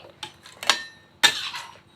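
A few sharp metallic clinks and scrapes of a ladle against a wok while spooning spicy pork curry into a pot, irregular and close, with quiet gaps between.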